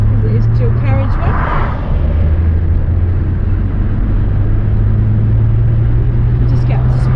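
A Rover P4 car accelerates onto a dual carriageway, its engine rumbling low and steady from inside the cabin as it builds speed, with brief talk early on.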